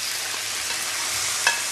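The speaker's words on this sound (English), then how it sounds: "Let's fire more oil and cut all fish and stir." Chunks of fish and squid fry in hot oil for a Spanish seafood paella, giving a steady close sizzle with a brief louder spatter near the end.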